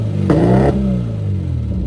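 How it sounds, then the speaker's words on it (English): A Triumph Spitfire engine fitted with a stainless tubular Phoenix manifold and full exhaust system gives a short, loud rev blip and then settles back to a throaty idle. "We now have a tubular manifold, full system, full stainless system from Phoenix Exhausts, which sounds amazing."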